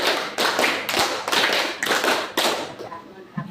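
Classroom clapping game with rhythmic hand claps, a series of sharp group claps in steady rhythm, close and loud, with no talking over them.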